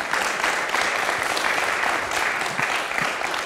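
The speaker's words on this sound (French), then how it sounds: "Merci d'être avec nous, on vous applaudit." Studio audience applauding guests arriving on a French television debate programme about social inequality; dense, steady clapping fills the whole stretch at close, even loudness.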